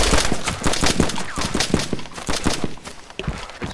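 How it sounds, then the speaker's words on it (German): Rapid bursts of SKS rifle fire in DayZ, sharp repeated cracks in an uneven rhythm, loud and close, with no voices. "SKS höre ich auch schießen"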